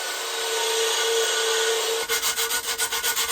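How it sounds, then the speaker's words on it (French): A surface on a Jaguar car, fouled with grime leaked from a shaft seal, is rubbed clean by hand. A steady close scrubbing gives way to a quick series of rhythmic back-and-forth strokes. "Je vais nettoyer la surface ici là."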